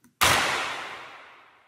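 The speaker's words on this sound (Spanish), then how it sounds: "con este clap con reverb." A single clap hit with a long, bright reverb tail that washes out and slowly fades over more than a second, heard alone.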